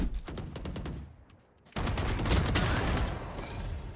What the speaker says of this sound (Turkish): Her yerden mermi geliyor.